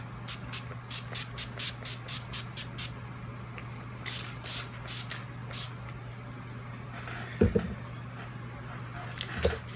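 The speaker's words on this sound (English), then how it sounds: "Skindinavia finishing spray, best stuff ever made." Skindinavia finishing spray misted from a pump bottle in a series of short, quick hissing bursts, about a dozen close spritzes followed by a few more spaced sprays over a steady low background hum.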